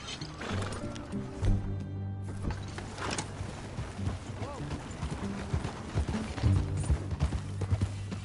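Horse hooves clip-clopping at a walk in the Red Dead Redemption 2 video game, an uneven run of close, hollow knocks alongside creaking tack, with people talking over them and a brief whinny.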